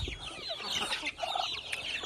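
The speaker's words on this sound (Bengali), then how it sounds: "একটা সাদা মুরগির বাচ্চা দেখতে পাচ্ছেন, দুইটা সাদা মুরগির বাচ্চা আছে দেশি মুরগি।" Young native farm chicks, including white ones, peep and cluck close by in a busy, overlapping chatter with short cheeping calls.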